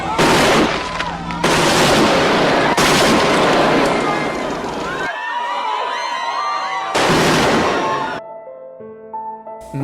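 Rapid bursts of gunfire during the 1968 Tlatelolco massacre in Mexico City's plaza, with soldiers and rooftop snipers of the Olimpia Battalion. The shots are loud and chaotic, come in several intense volleys separated by brief lulls, and sound over a distressed crowd.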